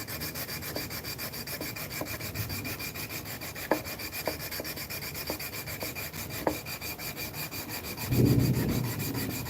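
A wooden mallet being rounded by hand makes steady, continuous scraping and rasping, with faint ticks and a louder rough burst near the end. No talking.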